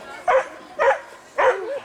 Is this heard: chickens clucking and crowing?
no